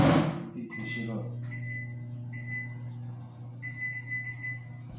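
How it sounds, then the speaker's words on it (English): A kitchen microwave oven heating food hums low and steady while someone talks casually nearby, with a few thin electronic tones sounding now and then over the drone. "While I'm put the food in the microwave and heat this shit up"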